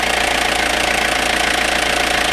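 A 1995 Mazda Bongo Friendee van engine idles steadily and loudly after a cylinder head install, with a continuous rumbling drone and a faint rhythmic ticking throughout, no voices.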